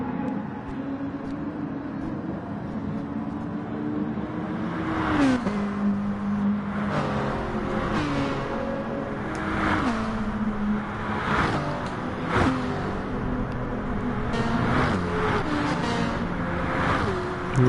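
Gr.3 race cars roar around the Spa circuit in Gran Turismo Sport, engines revving and shifting through gears with pitch rises and drops, several cars passing in a steady loud stream.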